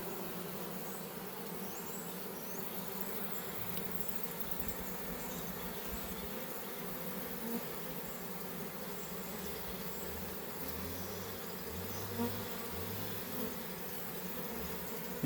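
Inside a bucket, a honeybee swarm fans its wings in a steady, dense buzz with a low drone underneath. The sound stays even and continuous throughout, with no voices.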